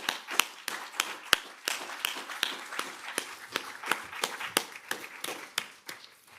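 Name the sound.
audience applauding Nick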